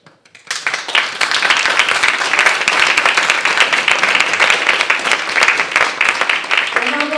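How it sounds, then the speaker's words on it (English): A gathering at a Navaratra Devi Puja satsang breaks into a big round of applause, steady and dense from start to finish, with a voice coming in briefly near the end. "Another big round of applause for all of you"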